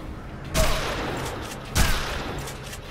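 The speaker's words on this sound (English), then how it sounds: "That's a weak ass shotgun." Two heavy shotgun blasts from the Dead Island zombie game, a little over a second apart, each a loud broadband boom with a short decaying tail, set against steady in-game background noise.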